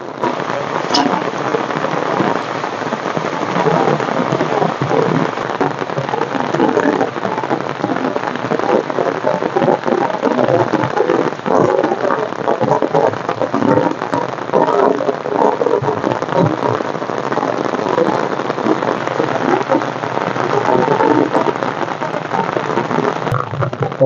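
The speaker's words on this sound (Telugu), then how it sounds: "బాగా దంచి కొడుతుందండి వర్షం." Heavy rain pours steadily and loudly on a village, heard from a rooftop terrace, with a dense unbroken hiss of drops and a voice talking now and then beneath it.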